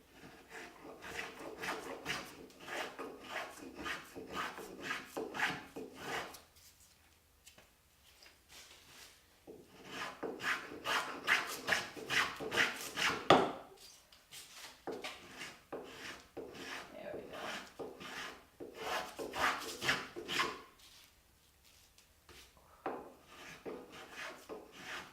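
A spokeshave shaves wood along the long grain in three separate runs of quick rasping strokes, each run lasting several seconds with short pauses between, close and fairly loud.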